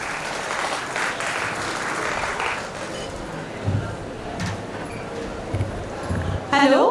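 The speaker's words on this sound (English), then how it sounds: "With a big round of applause." A crowd welcomes a department head onto the stage with a big round of applause, thick clapping for about three seconds that then thins out into scattered claps and room noise.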